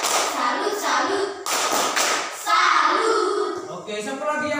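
Primary school class doing a rhythmic clapping cheer, bursts of many hands clapping in a patterned beat mixed with children's chanting voices, fairly loud and close.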